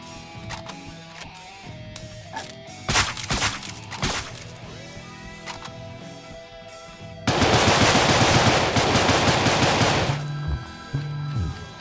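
Gunfire in the video game Deadbolt, with a few sharp single shots early on, then a loud, sustained automatic burst lasting about three seconds, followed by short mechanical clicks.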